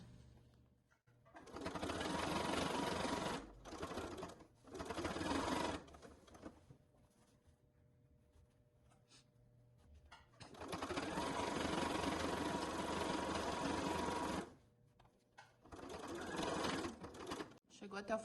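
A sewing machine stitches a family-size beach bag in long, steady motorized runs broken by short pauses, loud and close, with a voice talking between bursts.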